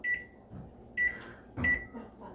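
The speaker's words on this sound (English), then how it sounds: "We're going to microwave that for 40 seconds." A microwave oven hums quietly and is punctuated by three evenly spaced high beeps, with soft clatter in between.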